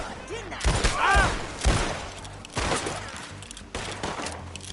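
Gunfire in Red Dead Redemption 2 during a shootout, several loud close shots in quick succession over a few seconds, with voices talking between them.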